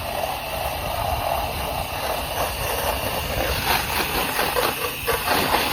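A roof wash machine spraying heavy soap, a loud continuous hissing spray with a steady mechanical drone underneath, close and unbroken.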